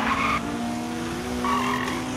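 Toy diecast cars, a Toyota Supra and a Honda Jazz, race on a track with rolling wheel hum and two short bursts of high squealing, steady and close, no talking.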